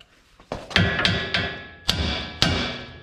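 Hammer striking the top ball joint on a Toyota Hilux suspension, five or six sharp metallic blows close up, irregularly spaced with ringing decay between hits.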